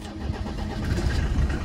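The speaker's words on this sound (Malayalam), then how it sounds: "ആ ഒരു പഴയ വണ്ടി സ്റ്റാർട്ട് ആവുന്ന ആ ഒരു ക്രാങ്ക് ആയിട്ടാണ് വണ്ടി അങ്ങ് സ്റ്റാർട്ട് ആയത്" An old Mercedes-Benz W124 E250 D engine cranks and catches, a steady close, loud mechanical rumble building slightly as it fires up, with no talking.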